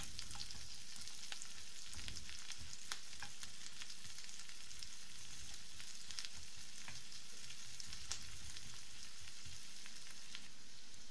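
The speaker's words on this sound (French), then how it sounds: "On va venir y plonger nos poivrons et les laisser mijoter 1 à 2 minutes" Peppers simmering in butter over low heat in a pan for Turkish menemen, a soft, even crackling sizzle with faint scattered pops throughout, no voices.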